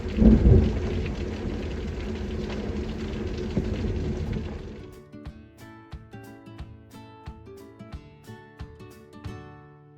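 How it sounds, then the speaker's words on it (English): A thunderstorm with steady heavy rain washing across the first half, then easing into a sparse patter of individual drops striking a surface, with a deep rumble of thunder near the start; no voices. "Doing a little bit of lightning too."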